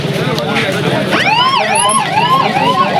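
An ambulance siren wails at a road accident scene on a city bridge, loud and close, with rising and falling sweeps over traffic noise while people talk nearby.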